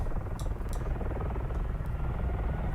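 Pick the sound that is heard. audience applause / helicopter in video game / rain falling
helicopter in video game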